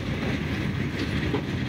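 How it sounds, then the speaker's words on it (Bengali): A train rolls into the Darshana rail yard near the Bangladesh–India border, a continuous loud rumble with rhythmic clattering of wheels over rail joints. "ট্রেনটি এখন দর্শনা রেল ইয়ার্ডে প্রবেশ করছে।"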